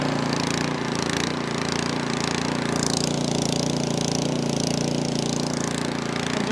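A repaired Craftsman snow blower engine runs and idles with the choke on, a loud, close, continuous buzzing drone that surges slightly as it warms up cold, with no voices.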